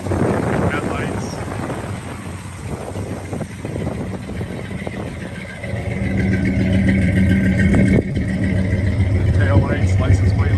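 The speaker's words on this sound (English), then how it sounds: "there you can hear the engine, sounds good. Runs nice and smooth." A big muscle car engine rumbles nearby, low and steady, with wind buffeting the microphone and a slight rise in revs toward the end.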